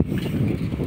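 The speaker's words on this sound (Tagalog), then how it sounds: "Oh, naririnig niyo yung hangin." Wind roaring over open sea at night during a fishing trip off Polillo Island, a steady low rumbling gust with no pauses, close and fairly loud across the whole second.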